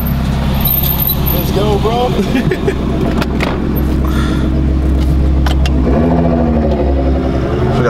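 A Nissan GT-R idles and rolls up nearby with a low steady engine rumble and a brief rev, while people chat over it.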